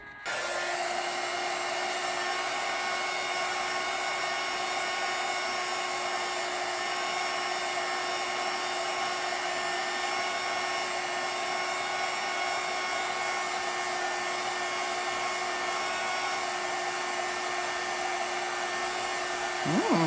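An embossing heat gun blows steadily for about twenty seconds while heating alcohol inks, a constant close airy roar with a high whine that never changes.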